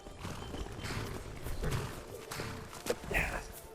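Horse in the Skyrim video game, with hooves clip-clopping and the odd snort over busy, fairly quiet game ambience.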